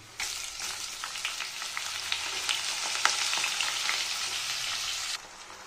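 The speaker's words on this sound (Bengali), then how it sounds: "এবার আমি ভালো করে চালটাকে ভেজে নেব" Washed rice tossed with whole garam masala frying in hot oil, a steady close sizzle with small crackles and occasional stirring clicks, lasting about five seconds before cutting off.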